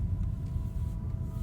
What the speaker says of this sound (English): You can hear you get that funky tone from this being a hybrid or in electric mode